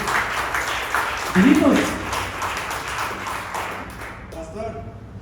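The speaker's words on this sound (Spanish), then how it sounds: "Dame un aplauso al Señor." A church congregation claps in praise during a sermon, a fairly dense burst of clapping with a voice speaking over it and a brief sung or called-out tone partway through.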